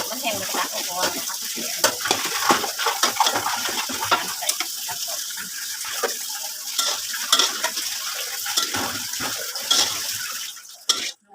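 Thai curry paste being stir-fried in a pan gives a steady, close sizzle broken by frequent scraping and stirring strokes of a utensil against the metal, ending in a brief clatter.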